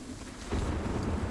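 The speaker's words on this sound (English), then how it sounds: "We have a dynamic weather system, so now it's raining." Rain from the dynamic weather system in the shooter game Sniper: Ghost Warrior 3, a steady rushing wash that thickens and grows louder about halfway through, with no voices.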